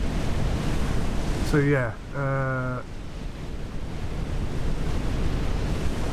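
Ocean waves in the NAUTIS Home Ship Simulator game at a Hong Kong container terminal make a steady, loud broadband wash throughout, with a brief voice speaking near the start.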